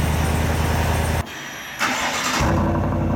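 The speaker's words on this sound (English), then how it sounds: "Does your truck sound like this?" A Chevrolet truck with its stock exhaust rumbles loudly and close by, cuts out briefly, then cranks and fires back up before settling into a deep, steady idle.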